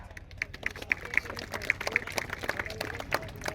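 A wrestling match crowd in Jalkhed claps in bursts of uneven, close applause with some murmuring, rising and falling over a few seconds.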